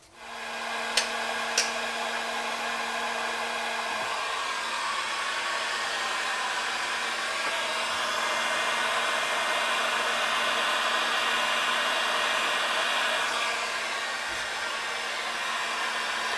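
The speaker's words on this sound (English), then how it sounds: "So I have here my heat gun." A heat gun blowing hot air in a workshop while an old Tandy 1000 TX computer is being refurbished, a loud, steady, close whooshing roar that runs continuously, opening with a couple of faint clicks.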